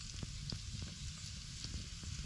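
Peppers sauté in butter in a cast iron pan over a campfire, giving a steady close sizzle broken by a few quick crackles and pops.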